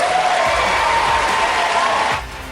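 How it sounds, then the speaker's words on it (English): A dense crowd cheering and applauding in the Texas Capitol rotunda, a loud, continuous roar of clapping and shouting voices that dips slightly at the end. "That cheering and applause continued uninterrupted for at least 15 minutes."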